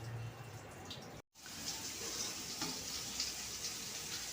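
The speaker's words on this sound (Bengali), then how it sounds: "এদিকে বেগুন ভাজা" Eggplant slices frying in oil give a soft, steady sizzle at moderate distance, briefly cutting out early, with faint clinks and a sharper noise at the very end.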